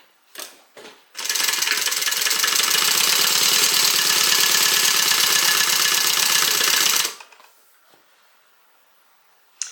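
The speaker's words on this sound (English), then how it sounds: "go ahead and fold them in half and stitch down the side." A sewing machine runs steadily for about six seconds stitching down the side of folded fabric slip pockets for a tote bag, a fast even mechanical whirr close up, with a few small handling taps before and after.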